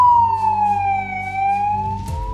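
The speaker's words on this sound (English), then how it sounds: "The moment you hear the siren, slow down, go to the side and make a way." A loud wailing ambulance siren sweeps slowly down and back up in pitch, steady and close, with engine rumble underneath.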